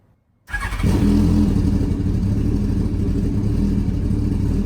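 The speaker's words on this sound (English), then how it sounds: "Now we're gonna fire it up, run it for 10 seconds" A car engine low on oil cranks and catches after a brief silence, then settles into a loud, steady rumbling idle.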